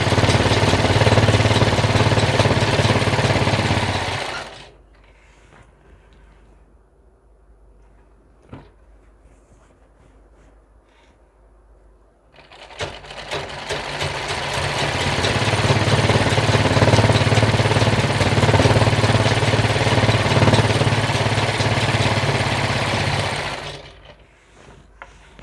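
Electric sewing machine stitching a fall onto a saree, running in two long steady bursts of loud, even mechanical whirring separated by a quiet pause with faint handling.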